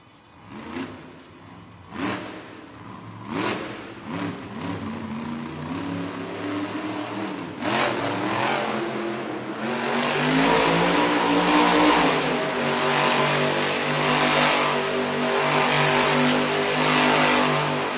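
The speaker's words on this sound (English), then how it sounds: "Very nice revolutions by Ashley Sanford and Megalodon" Megalodon monster truck engine revving hard in an indoor arena during a Monster Jam event, loud rising and falling roars building into a sustained full-throttle blare.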